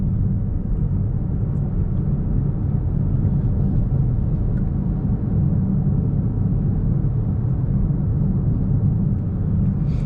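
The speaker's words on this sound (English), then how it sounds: "So with just a little bit of road noise, the biggest noise in fact is the sound of wind rushing over the wing mirrors" Steady broadband road and wind noise inside a 2024 Toyota C-HR GR Sport driving in sport mode, wind rushing over the wing mirrors dominating a low tyre rumble, continuous and even throughout with no talk.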